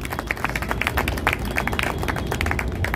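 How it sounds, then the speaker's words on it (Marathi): Audience applause for Vitthal Dada at a public lecture, a steady patter of many hands clapping throughout, fairly close and even. "विठ्ठलदादांसाठी एकदा जोरदार टाळ्या झाल्या पाहिजे"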